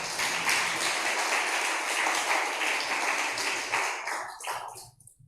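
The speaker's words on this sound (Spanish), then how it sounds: "Den un aplauso al Señor." A church congregation bursts into sustained applause and clapping, a dense, loud wash that holds steady and then tapers off near the end.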